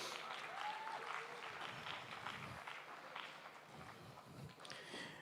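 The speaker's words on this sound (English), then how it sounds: "Please give our sponsors a round of applause." Faint, distant applause from a crowd at a youth gymnastics competition, a soft continuous patter of clapping in a large hall with low background murmur.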